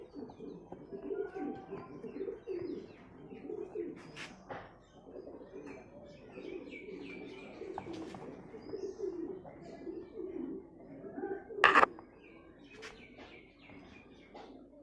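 Pigeons at a small pigeon farm coo continuously in overlapping low calls, with scattered chirps, a few sharp knocks and a brief loud clatter, all fairly close.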